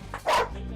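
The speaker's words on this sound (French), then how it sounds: "c'est au tour du chien renifleur de passer à l'action" A sniffer dog gives a single short, loud bark during a drug search of a holiday rental room on the Côte d'Azur, with a quieter yip just before it and low room noise around.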